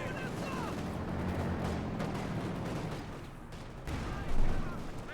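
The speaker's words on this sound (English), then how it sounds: "Here he is, some transport being shot to bits" Transport vehicle under gunfire in Company of Heroes 2, with a dense, continuous wash of battle noise, rattling shots and explosions, and a louder boom near the end, under a commentator's steady talk.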